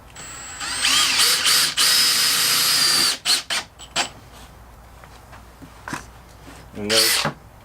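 A power drill drives self-tapping screws into a pool fence gate, with several loud whirring bursts at the start, then short taps and a final brief burst, with a voice speaking in between.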